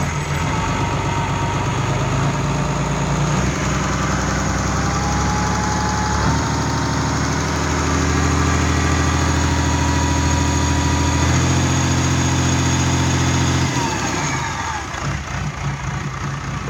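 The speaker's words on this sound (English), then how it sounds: "As I reach down, I'll give it a quick rev." Fiat Powertrain FPT NEF 400 marine engines run loudly in a workshop, a heavy continuous diesel drone that swells into a brief rev midway and settles back toward idle.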